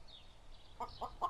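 Three short clucks from a cartoon chicken, fairly close, in quick succession over a quiet background with a faint higher chirp early on.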